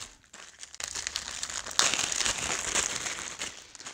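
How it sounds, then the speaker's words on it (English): A plastic bag from a road bike tool kit crinkles and rustles up close for several seconds, starting quietly and growing busier and louder partway through. "I then got a plastic bag with a couple of handy things in it."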